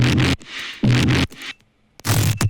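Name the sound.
synth bass growl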